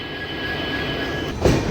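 The Gomteshwara Express, Yesvantpur to Mangaluru, rolls along on a single engine, heard from on board as a loud, steady rumble with a thin high squeal, then a brief heavier thump near the end.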